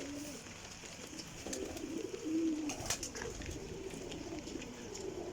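Pigeons coo softly at a loft in a few low, rolling calls near the middle, with faint ambient background noise and occasional light knocks.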